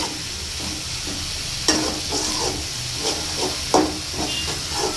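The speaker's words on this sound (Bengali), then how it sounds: "আজকে ডিম ভুনা করতেছি" Eggs being cooked in a frying pan for egg bhuna, with a steady close sizzle and frying hiss, plus repeated scraping and stirring strokes and a couple of sharper clanks.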